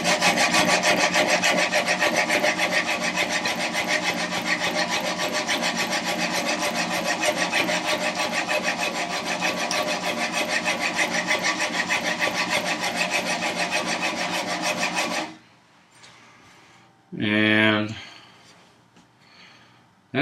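A plane iron is rubbed back and forth on a sharpening stone in a woodworking shop, a loud, continuous gritty scraping with a steady stroke rhythm for about fifteen seconds, then stopping before someone speaks briefly.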